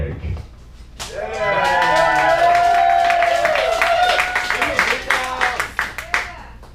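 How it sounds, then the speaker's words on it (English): A comedy show audience gives casual, scattered clapping that swells briefly near the end while a host keeps talking over it. "Pull a Shakespeare joke and then you casually applaud."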